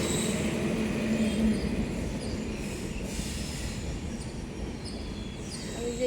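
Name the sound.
train passing by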